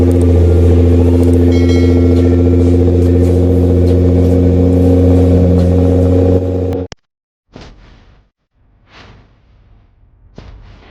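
A Honda Civic Type R engine roars loudly and steadily as it accelerates, then cuts off abruptly, leaving a few short bursts of quieter rumbling and clatter.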